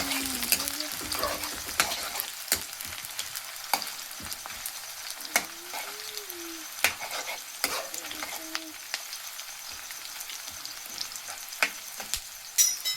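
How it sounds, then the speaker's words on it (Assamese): Onions frying in very hot oil in a pan, a steady close sizzle broken by sharp clicks and scrapes of a spoon stirring, with no talking. "পিঁয়াজটো ঢালি দিলোঁ। তেলটো পূৰা গৰম হৈ গৈছে।"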